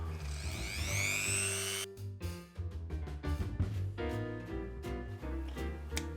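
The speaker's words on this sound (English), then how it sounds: "So here we have a Dremel with a cutting wheel, and what I'm going to do is the usual technique of enlarging the screw hole" A Dremel with a cutting wheel whines at high speed while enlarging a screw hole on a Lotus Elan M100 alternator, running steadily at first, then cutting in short bursts with pauses and clatter.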